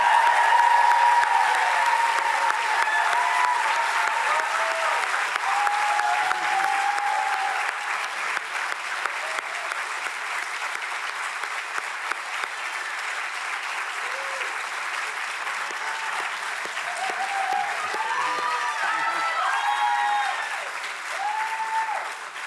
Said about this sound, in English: I want everybody to give a round of applause to these amazing people.